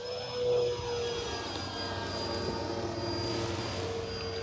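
Eflite Draco 2.0 m electric RC airplane at full power, a steady high-pitched motor and propeller whine holding continuously, fairly distant, with a slight swell near the start.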